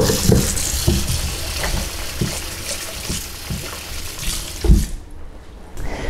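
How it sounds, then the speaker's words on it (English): Splashing and sloshing water with scrubbing and clattering sounds as something is rinsed and scrubbed in warm soapy water in a sink, close by. "nice rinse with some warm soapy water and a little bit of a scrub"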